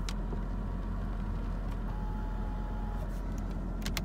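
Power telescoping steering column of a 2006 Mercedes S55 AMG moving, a soft, steady electric motor whine under the cabin hum, ending in a few light clicks.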